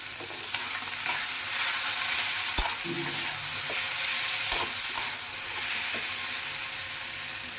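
A fish head dish fries in a pan as mango pickle is stirred in, giving a constant close sizzle broken by a couple of sharp spoon knocks against the pan, with no voices.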